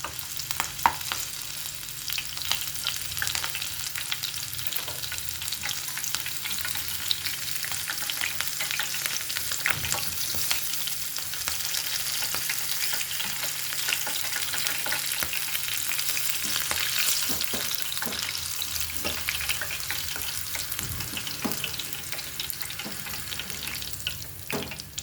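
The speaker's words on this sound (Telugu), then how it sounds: "పకోడీ అంటే పచ్చిమిర్చి కరివేపాకు ఉండాలి కదండి. పక్కన పెట్టుకున్నాను, మర్చిపోయి వేగించడం." Green chilies and curry leaves fry in hot oil for onion pakodi, with a dense, steady sizzle that runs unbroken for the whole stretch. Occasional stirring clatters are heard close by, and no one speaks.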